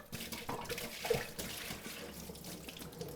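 Running water splashes and sloshes inside a glass winemaking carboy, a continuous rinsing rush with small knocks and gurgles.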